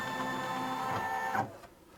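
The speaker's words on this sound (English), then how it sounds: "it's warning you that the embroidery unit will position itself here" A Brother Innov-is NQ3700D embroidery machine's embroidery unit whirs and buzzes steadily as it drives into position, then stops with a small clunk, leaving near silence.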